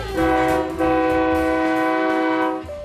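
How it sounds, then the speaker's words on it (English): Train horn sounds at Campo, a loud sustained chord-like blast held for nearly three seconds with a brief dip partway, alone without talk. "that meant going to Campo and driving a train"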